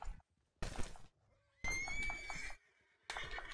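Several loud horse neighs and whinnies from the Red Dead Online video game, in separate bursts with short silent gaps between them and no talk.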